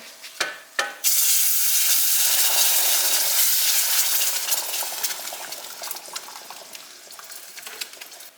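Red sauce is stirred into tamale filling in a hot pan, a loud steady sizzle bursting in after a couple of utensil knocks, then gradually settling with the scrape and clink of stirring.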